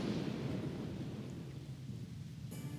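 Deep, low thunder rumble with rain-like hiss in Final Fantasy X as lightning flashes, a steady rolling roar that fades slightly and ends with a bright crackle.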